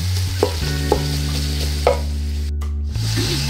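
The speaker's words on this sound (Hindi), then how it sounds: "अब मैं इसमें मीडियम जो मैंने प्याज काटे हुए थे वो डालूंगी" Medium chopped onions sizzle in hot oil as they brown for a chicken biryani. A steady frying hiss runs throughout with a few scraping stirs, and no one speaks.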